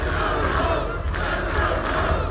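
A college baseball crowd at a Notre Dame versus Florida State game, a sustained roar of cheering and yelling from many voices spread through the stands, steady and loud throughout.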